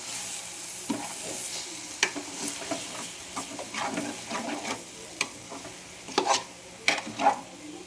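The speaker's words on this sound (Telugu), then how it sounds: "కలుపుకుందాం అంతా కలిసే విధంగా అదంతా కలిసే విధంగా కలిపేసుకుందాం" A spoon stirs a moringa leaf, potato and egg mixture in a pan over a low sizzle, with irregular scraping and clinking strokes that sharpen toward the end.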